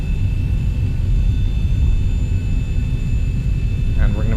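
Simulated Boeing 737 jet engines idling on the ground while taxiing in X-Plane 11, a steady low rumble with a faint high whine, continuous throughout; a brief voice-like chirp near the end.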